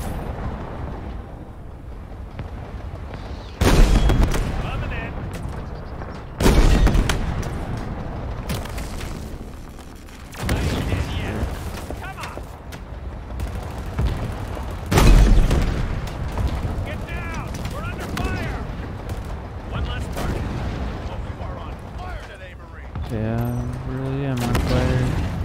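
Repeated gunfire in the first-person shooter Halo Infinite, with several loud booming shots spread across a tense firefight amid game ambience and a voice talking between bursts.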